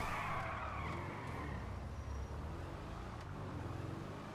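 A car in GTA V churns along a beach off-road, its engine droning with a rough, steady roar and tire noise throughout, loud and close without pause.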